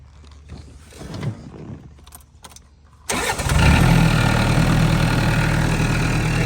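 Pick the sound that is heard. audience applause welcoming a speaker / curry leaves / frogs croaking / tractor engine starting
tractor engine starting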